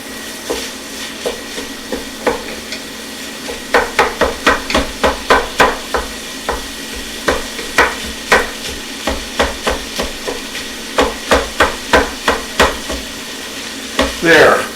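Spicy sausage browns in a pot for lentil soup, with steady frying sizzle under a run of sharp, rhythmic scraping and knocking strokes as it is stirred and broken up; near and fairly loud, with no talking.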